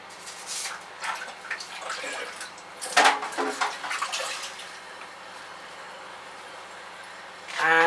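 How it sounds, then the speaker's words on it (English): Dirty dishwater draining out of a kitchen sink after washing up, gurgling and splashing in irregular bursts with a louder slosh midway, then settling into a quieter trickle before a final rush. "Drain the sink down from the dirty water."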